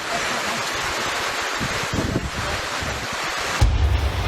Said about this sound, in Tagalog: Umuulan at ramdam ang malakas na hangin sa Barangay Maasin sa Leyte kaninang umaga.